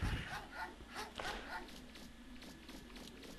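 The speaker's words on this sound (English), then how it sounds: "the dogs are trying to attack you" Hostile dogs in the game Megaman Legends bark and yip in short, repeated bursts at moderate loudness over steady background game noise.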